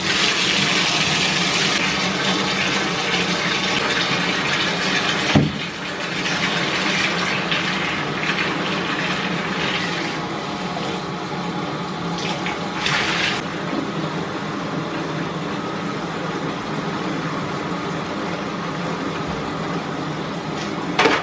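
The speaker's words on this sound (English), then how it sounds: "you're gonna turn your water on here as hot as you possibly can" Hot water gushing from a tap into a bathtub, a steady loud rushing flow with a few small knocks and splashes, continuous with no talking.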